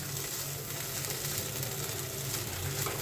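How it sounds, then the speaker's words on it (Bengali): Soaked bamboo leaf dried fish fries in a pan, giving a continuous, dense sizzle that stays close and even throughout. "আমি এখন এটা সুন্দর করে একটু ভেজে তারপরে একটু পেঁয়াজ আর কাঁচা জাল একটু হালকা ভেজে নিব"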